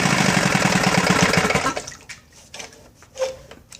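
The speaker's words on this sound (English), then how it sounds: "Water pump's working." Water gushes steadily from the pump outlet of a running Johnson 15 HP outboard motor for about two seconds and then cuts off abruptly, leaving a few faint knocks and clicks.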